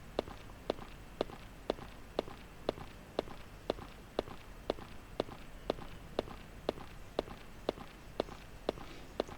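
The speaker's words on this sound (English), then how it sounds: "You can hear the footsteps." Regular footsteps tap at an even walking pace, about two per second, fairly faint over a soft background hiss while moving through a virtual tour of a Noah's Ark exhibit.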